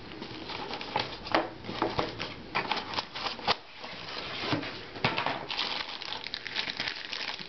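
Packaging crinkles and rustles while an Asus Eee PC 1001p laptop is unboxed, with continuous close crumpling of plastic and paper plus small knocks and shuffles, no talking.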